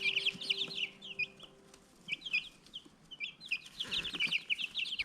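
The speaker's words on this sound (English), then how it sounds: "Oh, little chicken." Backyard chickens cluck in short repeated bursts, several birds calling close by in uneven clusters with quiet gaps between, alone without talk.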